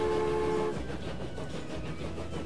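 Passenger train in the Transport Fever video game climbing a steep hill, giving a steady low rumbling chug with a brief horn-like tone at the start, continuous and fairly loud with no talk.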